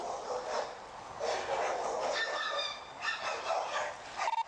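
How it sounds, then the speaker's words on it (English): Several dogs bark and yip in a rapid, continuous tumble, moderately loud and close, as they maul a body behind a gate; higher-pitched yips rise out of the noise mid-clip. "the dogs are mauling the body."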